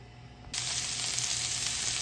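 Shallots drop into hot extra virgin olive oil in a frying pan, and a quiet background gives way to a sudden, loud, hissing sizzle that holds steady.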